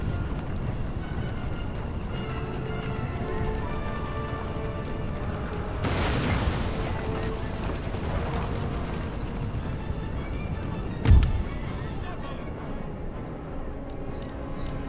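Artillery cannons fire in Empire: Total War, a battlefield of dull distant booms under steady background rumble, with one sharper, louder blast standing out late and no talking.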